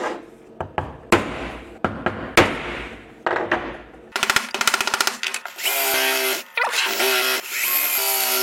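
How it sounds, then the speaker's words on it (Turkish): Drilling holes in sheet metal for a DIY battery spot welder: several short bursts from a power drill, some rapid rattling chatter as the bit bites through, then longer sustained high-pitched whining drill runs, close and loud. "Hemen onları da bir delelim."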